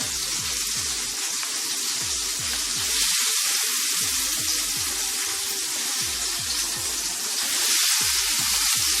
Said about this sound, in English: Make sure you just get a good sear on that marlin.